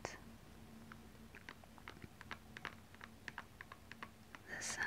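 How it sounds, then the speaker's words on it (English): Rhinestones on sparkly blue shoes click and tick softly as they are handled up close, in an irregular scatter of light taps, with a faint low hum underneath and a brief rustle at the end. "the sound that the rhinestones make is so tingly and relaxing"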